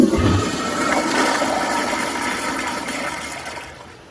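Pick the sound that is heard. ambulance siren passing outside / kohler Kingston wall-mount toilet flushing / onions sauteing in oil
kohler Kingston wall-mount toilet flushing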